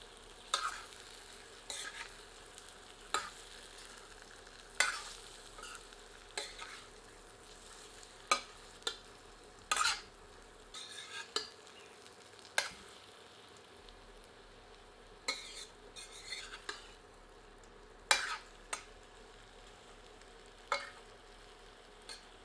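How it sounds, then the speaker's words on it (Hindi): Roasted chicken being stirred in a hot kadhai for a spicy chicken zalzala, with a steady low sizzle under repeated sharp scrapes and clinks of the spoon against the metal pan, close and fairly quiet, no voices. "अब भुना हुआ चिकन कढ़ाई में सम्मिलित करते हैं। सबको मिलाते हैं।"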